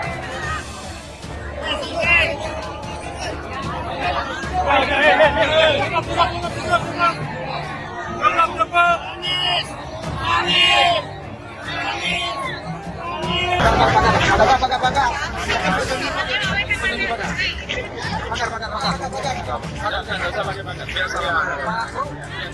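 Crowd of workers at a street rally for Anies Baswedan, a dense babble of many voices with surging shouts and cheers, loud and close, rising and falling in waves throughout.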